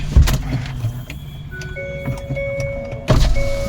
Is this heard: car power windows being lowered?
yes